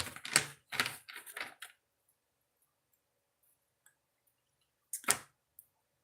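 Tarot cards are shuffled by hand, with three quick riffling bursts close up, then a pause and one more short shuffle, with a few faint ticks between.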